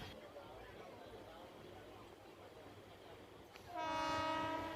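A train passes a railway crossing in the Khandala ghat area near paddy fields, first a low distant rumble of rail traffic, then a loud sustained horn blast sounding close in the final second.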